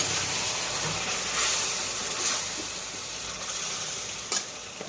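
Water from the mixer jar hitting hot frying masala for chicken curry, a loud hissing sizzle that bursts at the start and slowly settles into a steady crackle, a few stirring scrapes near the end.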